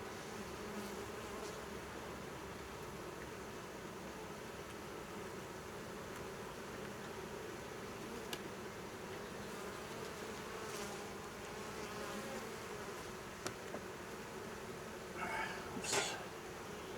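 Honey bees hum in a steady, dense buzz throughout a hive inspection, quiet and continuous, with a few brief handling sounds near the end and no talk.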